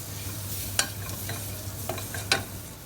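Curry powder and spices cooking in oil over low heat, a soft steady sizzle with three or four sharp spoon taps and scrapes against the pan, no voices.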